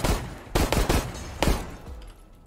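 Gunfire in the Resident Evil video game, a string of loud close shots in an irregular burst, each one sharp and booming with short decays.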